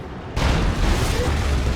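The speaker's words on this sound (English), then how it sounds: "There's the Demolisher Cannon." A heavy Demolisher Cannon blast from a Leman Russ tank in Dawn of War 2 bursts suddenly into a loud, sustained rumbling roar after a brief lull.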